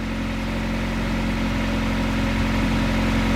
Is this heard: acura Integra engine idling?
yes